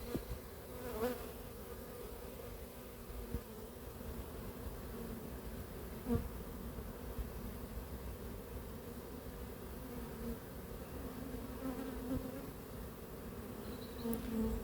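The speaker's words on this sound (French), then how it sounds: "Allez, les dernières rentrent dans la ruche." Honeybees from a captured swarm buzz steadily at the entrance of a hive, a dense continuous hum close by with no voices over it.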